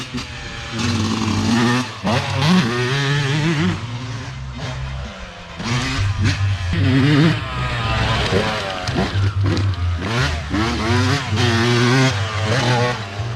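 A 1997 Yamaha YZ 125 two-stroke dirt bike with a steel frame runs loud and continuous, engine pitch rising and falling as it rides, with a rider's voice breaking in briefly at points.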